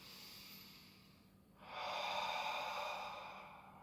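A single close breath during a leg exercise: a soft exhale fades out, then a brief pause, then a strong, breathy inhale swells and lingers.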